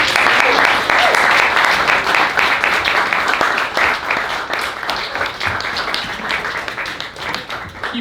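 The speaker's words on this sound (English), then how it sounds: "Keep it going. One more round of applause for Emily Black-Brown." Sustained audience applause fills a poetry reading series event, a dense steady wash of many hands clapping that stays loud throughout and eases only slightly toward the end.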